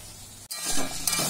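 Fish frying in oil, a soft sizzle that swells after a brief drop, with light clinks of utensils, no talking.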